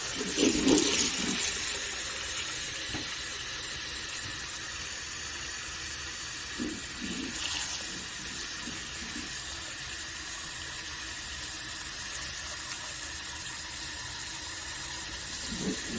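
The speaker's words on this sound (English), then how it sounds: "pour some water so it can soak, and fill the water till the top" Water is poured steadily into a pot of dal set to soak, giving a continuous rushing, filling sound with a few louder splashes, close by and with no talking.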